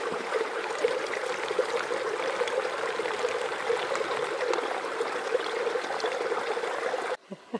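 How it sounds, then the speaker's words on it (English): Warm Springs River rushing in a strong, steady flow along the Pacific Crest Trail, a loud continuous wash of water that carries on unbroken before cutting off near the end, where a couple of brief knocks sound. "that is a massive flow of water"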